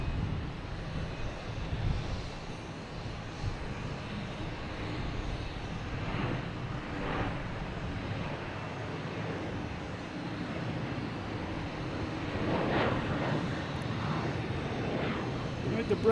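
A Delta airliner passes at Boston Logan Airport, a broad rumbling roar building and fading at a distance, with wind buffeting the microphone and occasional talk underneath.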